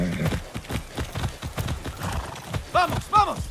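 A horse in the video game Far Cry 6 clip-clops along in steady hoofbeats, then neighs twice near the end, loud and close.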